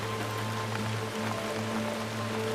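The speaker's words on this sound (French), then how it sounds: "Ressentez la pluie douce caresser votre peau" Gentle rain falls steadily, a soft even patter of drops on surfaces with no voices.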